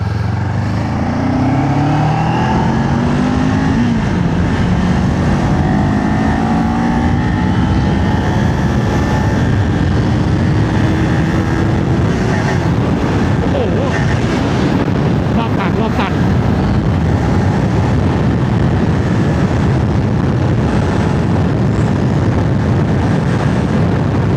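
A Kawasaki Ninja 500 SE is ridden through rising and falling revs, with gear changes sweeping the engine pitch up and down. Heavy wind rush covers much of the engine sound.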